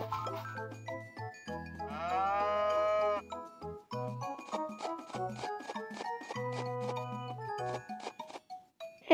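Cows moo in the farming game Harvest Moon: Home Sweet Home, a drawn-out synthesized low over chiming game music, with no voices.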